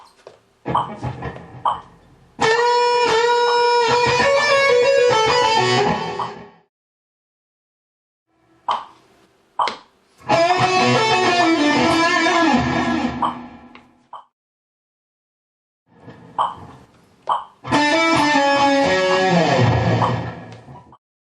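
Three bursts of fast, distorted electric guitar lead from a solo, each a few seconds long, with short quiet gaps and a few isolated picked notes between them, close and without talk.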